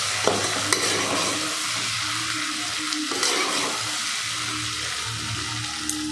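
Okra curry frying in a home kitchen pan, stirred with a spoon: continuous close sizzle with a few scraping strokes and light clanks against the pan.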